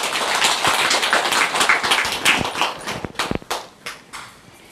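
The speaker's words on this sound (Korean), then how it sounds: "신장아버지에게 박수 한번 드리세요" An audience at a Buddhist temple talk claps together, a burst of many hands that swells, then thins into scattered, sharper claps as it dies away.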